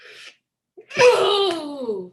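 A single loud human sneeze, close to the microphone in an indoor online debate session, preceded by a brief soft intake and ending in a trailing vocal exhale.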